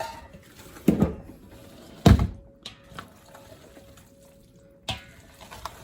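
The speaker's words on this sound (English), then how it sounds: "then to get a nice even mix, let's say, then I'll just stir it as I go like this" A spoon stirs quinoa and red bean gumbo in a pot, giving a few sharp clanks and soft wet sloshes spread over several quiet seconds.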